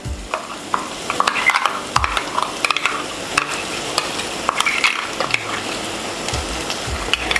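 A spoon scrapes and clatters as ground coconut paste is stirred into a hot pan with wilted chilies for a prawn curry. Repeated knocks and scrapes sit over a steady sizzle, close and with no voices.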